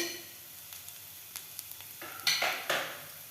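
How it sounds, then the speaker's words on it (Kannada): Onion and fresh curry leaves frying in a pan for a capsicum curry: a soft, quiet sizzle with a few light stirring scrapes that swell into louder bursts near the end. "ಇದರಲ್ಲಿ ಹಾಕಿ ಫ್ರೈ ಮಾಡಿಬಿಡೋದು"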